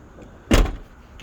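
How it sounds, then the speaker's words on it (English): A 1998 K1500 truck door in need of greasing moves once, producing a short, loud, close thud or clunk with a scraping edge that fades quickly into quiet. "gotta get that door greased again"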